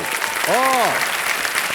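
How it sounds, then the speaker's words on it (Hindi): An audience applauds and cheers to welcome actor Vicky Kaushal on stage, a dense wash of clapping with a single rising-and-falling whoop or whistle cutting through midway. "मैं चाहता हूं कि जोरदार तालियों से स्वागत किया जाए नई पीढ़ी के superstars, national award winner Vicky Kaushal"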